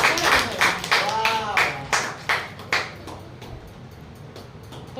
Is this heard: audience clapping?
yes